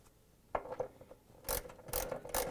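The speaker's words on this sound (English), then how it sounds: "I use the 10 millimeter socket wrench" Ratcheting socket wrench with a 10 mm socket tightening a 10 mm bolt on a washing machine's rear shock absorber mount, a few short bursts of close, fairly loud metallic clicking with brief pauses between them, no talk.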